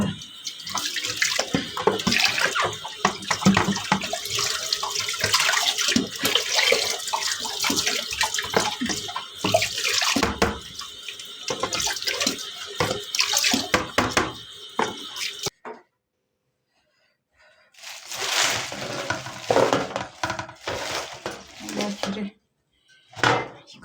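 Tap water runs and splashes in a kitchen sink as dishes are washed, a loud continuous rush with clatter for most of the stretch, a brief silent gap, then more running water, with a person talking over it.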